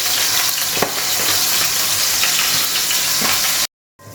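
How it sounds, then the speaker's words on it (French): Pork roast searing in a hot pan to build caramelisation: a loud, dense, continuous sizzle with a few faint knocks, close up, cutting to brief silence near the end, no talk. "Là je vais marquer ma viande."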